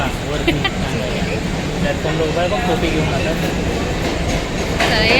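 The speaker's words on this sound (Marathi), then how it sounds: "चला तर आपली ट्रेन पण आलेली आहे" A loud train rumbles close by as it arrives at a station, with a rolling roar and rhythmic clatter of wheels, while people talk nearby over the noise.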